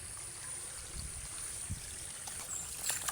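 Faint, continuous trickling and sloshing of shallow stream water as people wade through it, with soft splashy steps, quiet throughout.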